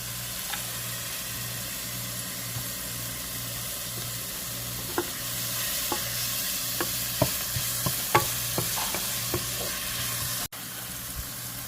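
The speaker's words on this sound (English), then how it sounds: "Our onions and all our garden herbs cook up very nicely." Garlic, onions and garden herbs fry in a pot with a steady hiss, while a utensil stirs and taps against the metal in scattered clicks, close and without any voices.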